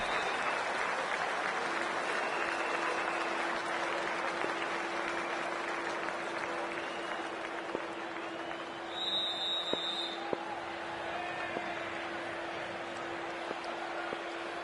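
A stadium crowd in the cricket video game Cricket 24 applauds and murmurs in a steady, broad wash of sound for the whole stretch, with faint commentary and a low hum beneath.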